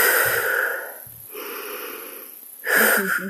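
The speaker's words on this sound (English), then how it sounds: "breathing in and out 3 times" Breathing in and out during a tapping exercise comes in a few slow, close, airy breaths with pauses between them, one louder exhale near the end.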